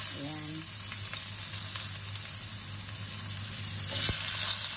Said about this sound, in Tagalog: Dito na ako magigisa.